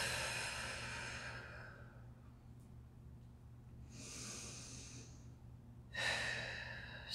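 Slow, deep breaths drawn during a seated stick-mobility stretch, heard as soft breathy exhales that swell and fade in long spaced cycles over a low steady hum.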